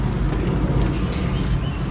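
A 1964 Buick Wildcat driving, with a steady low engine and road rumble heard from inside the car, continuous and fairly loud, with no talking.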